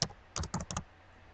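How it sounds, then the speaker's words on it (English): Quick keystrokes on a computer keyboard in a Windows 7 registry fix, opening with one tap and then a tight cluster of about six clicks, close and quiet with no talk. "You can start typing folder"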